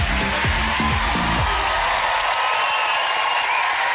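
Studio audience at a Saturday night entertainment show breaks into loud, dense applause that carries on steadily throughout, filling the room.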